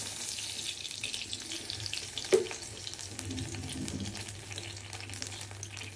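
Oil hisses in a hot kadai on the stove, a continuous, even sizzle close by with one small crackle and no talking.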